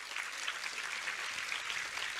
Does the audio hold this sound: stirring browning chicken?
no